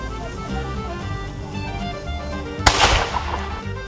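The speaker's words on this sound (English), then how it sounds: "with the sound of cannon fire behind me" A single sharp, loud cannon boom at a reenactment cuts through a steady background rumble, followed by a rolling decay, like a distant cannon shot.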